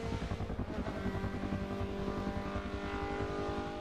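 Third-generation Mazda MX-5 (NC) engine running at Suzuka circuit, a steady dense drone with rhythmic pulsing throughout, close and loud, no talk.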